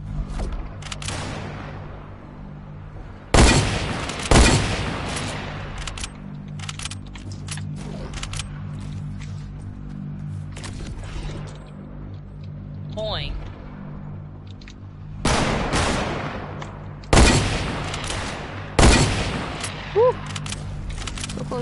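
Gunshots in a video game trickshot session: several sharp, loud bursts spaced irregularly, one early and a cluster near the end, with people talking between them.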